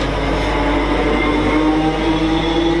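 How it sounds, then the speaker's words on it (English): A class 768 parcels train, converted from a class 319 electric unit, pulls out of a station on the West Coast Main Line, giving off a loud, steady electric whine and rumble close by. "So 768001 is now leaving."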